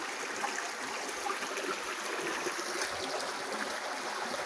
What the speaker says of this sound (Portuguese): Chuva na cidade de Livramento, na Paraíba. Muita chuva, graças a Deus.